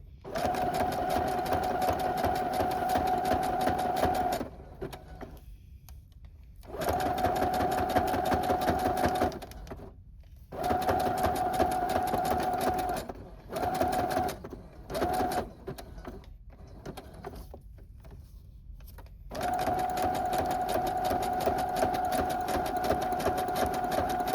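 A Brother sewing machine stitches a zigzag pattern in long, steady humming runs with a clear motor tone, broken by short stops and brief restarts before a final sustained run.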